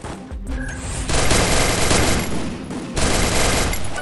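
Shotgun fire in the Free Fire battle royale game, loud dense blasts overlapping into a near-continuous barrage with a short break about halfway, no voices.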